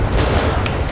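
Car blowing up in GTA 5 zombie mod, a dense loud burst of booming explosive noise filling the whole second, with sharp cracks at its edges.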